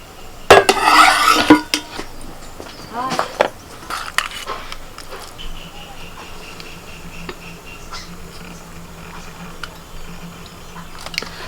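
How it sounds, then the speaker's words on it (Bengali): A metal tiffin box is lifted out of a water-filled steaming pot, with a sharp scrape and clatter of metal on metal, a few more clinks and knocks, then quieter rattles over a faint background hum. "এবার টিফিন বাটিটা তুলে নিচ্ছি"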